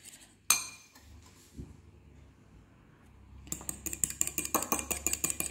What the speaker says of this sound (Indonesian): Sekarang kita aduk ini kuning telurnya pakai garpu aja.